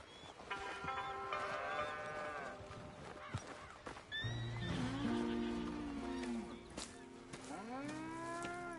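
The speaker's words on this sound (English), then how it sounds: "Here's the cows." Cattle lowing in a Red Dead Redemption 2 farm setting, several drawn-out moos overlapping from near and farther off, filling the scene with steady ambient background behind them.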